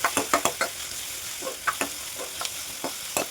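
Chopped onions and slit green chillies frying in hot oil with a soft continuous sizzle, broken by scattered scraping stirs of a spoon in the pan.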